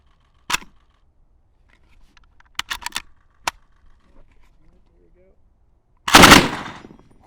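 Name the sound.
gunfire from rifle with OSS Rad 22 suppressor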